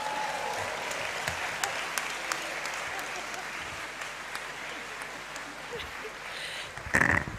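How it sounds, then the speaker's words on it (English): An audience in a university great hall claps continuously during a congregation ceremony, a steady moderately distant patter of applause with a louder moment near the end. "Please keep clapping, otherwise I will not sit."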